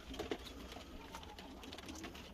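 A pigeon or dove coos softly inside an evening poultry coop, a few low calls over a faint steady background hum.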